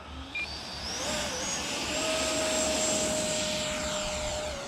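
A Freewing Yak 130 RC jet with a 70mm electric ducted fan takes off, its steady high-pitched whine rising and holding loud and close across the whole stretch with no talk.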